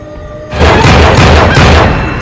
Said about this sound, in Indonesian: Leslie mencabut pistol yang ada di bawah meja, dan langsung menembakkannya ke arah Carson